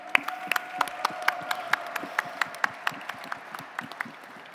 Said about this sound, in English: thank you and a big applause to all the teams that did their pitches